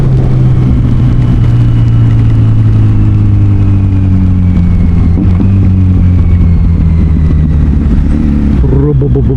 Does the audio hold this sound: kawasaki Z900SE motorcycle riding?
yes